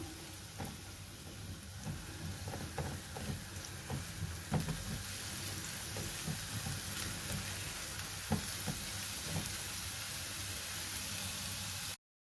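Onions with chicken liver and gizzards sizzle steadily in a pan, a soft continuous frying hiss with occasional pops and stirring clatters, no voices, ending abruptly.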